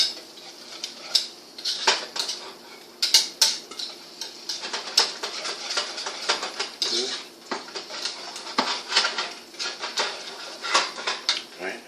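A spoon works mashed sweet potatoes around a bowl, giving a long run of quick, close clicks and scrapes against the sides in an irregular, steady rhythm.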